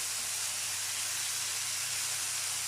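Lardons (bacon bits) fry in a pan, giving a steady, close, bright sizzling hiss that stays even for the whole moment, with no talking.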